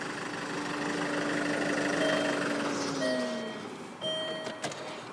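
A Land Rover Freelander engine runs steadily after its engine mounts and tie-rod were replaced. It hums loud and close with shifting tonal whines, and a few brief knocks come near the end.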